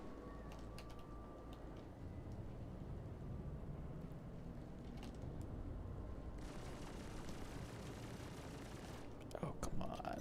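Rapid enemy gunfire in a Star Citizen space dogfight in thick cloud over Pyro, a dense continuous barrage of bursts and rumble with sharper cracks near the end.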